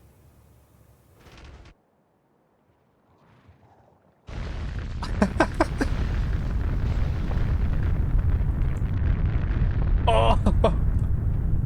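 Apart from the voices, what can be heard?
artillery firing and explosions in a video game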